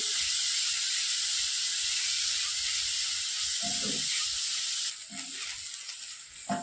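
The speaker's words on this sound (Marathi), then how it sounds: "आता आपल्याला सोनेरी रंगावर हा कांदा परतून घ्यायचा आहे." Onion sizzles as it fries in a pan on a medium gas flame, a steady close hiss throughout, with a couple of brief stirring scrapes and the hiss easing slightly near the end.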